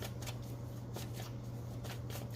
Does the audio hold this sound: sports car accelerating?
no